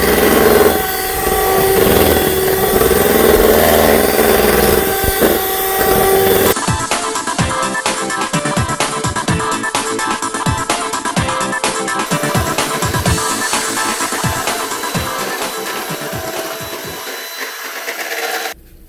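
An electric hand mixer creams butter and sugar for a Jamaican rum cake, a steady loud whirring drone that runs throughout with slight shifts in pitch and texture.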